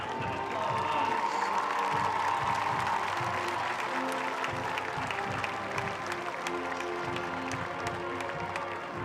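A high school homecoming crowd applauding the 2021 senior representatives, with dense, sustained clapping and some cheering, loud and continuous, and an announcer's voice audible at the start.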